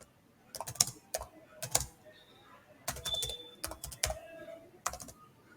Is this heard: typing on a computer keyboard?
yes